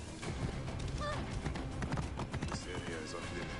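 A horse's hooves clip-clop at a steady pace through the Assassin's Creed Origins game world, under continuous talk and busy ambient game sound.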